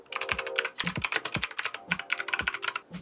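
Typing on an iPad Pro 11-inch (3rd generation) keyboard case: quick, close clicky keystrokes in irregular bursts with a few louder thumps like the space bar, no talking.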